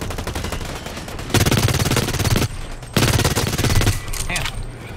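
Automatic gunfire in the video game Blacklight, with two long sustained bursts of rapid, loud shots split by a brief pause and steady game noise beneath them.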